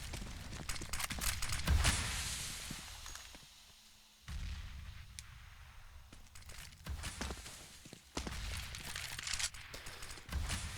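Rapid gunfire bursts and single shots crackle through a Counter-Strike match on the Cache map, with rifle fusillades recurring in loud clusters amid quieter gaps and footsteps.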